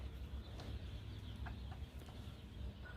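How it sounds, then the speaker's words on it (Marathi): Scattered clucks from free-range country hens at a poultry farm rise over a steady, rumbling background noise, with short bursts of clucking at irregular intervals and no talking. "अशा प्रकारच्या कोंबड्या"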